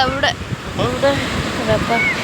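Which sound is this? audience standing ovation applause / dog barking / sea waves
sea waves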